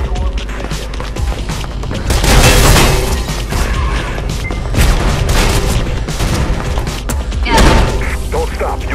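Gunfire in the video game Mirror's Edge, with repeated bursts and booms rising in intensity around several moments over a dense, continuous game soundtrack while a person talks throughout.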